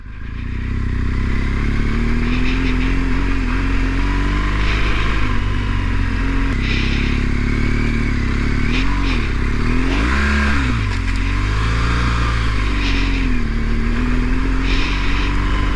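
A 2015 BMW R1200 GS adventure motorcycle drones steadily while riding, its engine note rising and falling with throttle changes, mixed with road and wind rumble and occasional rattles, loud and close throughout.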